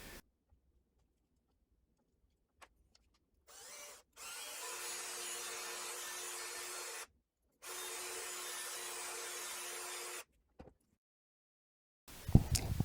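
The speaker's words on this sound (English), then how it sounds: "Here I'm struggling with the drill bit just slightly off screen." A power drill bores into Lego pieces for a radio-control Lego ATV build, running in two steady whirring bursts of a few seconds each, separated by short pauses and a few small clicks, close and fairly quiet.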